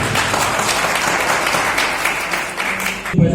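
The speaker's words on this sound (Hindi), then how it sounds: "भाई देवेंद्र राजोरा जी, जबरदस्त तालियों के साथ।" A crowd at a Khatik community gathering applauds loudly and steadily to welcome a speaker. The clapping is dense and sustained, and a microphone thump is heard right at the end.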